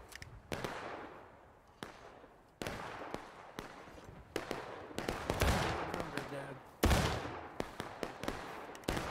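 Sustained gunfire during a firefight, sharp bursts and single shots cracking in irregular clusters, some loud and close, others more distant, echoing over the nine seconds, with voices shouting in between.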